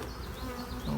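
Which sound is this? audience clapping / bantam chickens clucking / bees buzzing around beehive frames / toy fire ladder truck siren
bees buzzing around beehive frames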